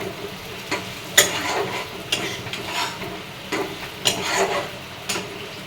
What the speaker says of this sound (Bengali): ভালো করে এরকমভাবে নেড়ে নেবে।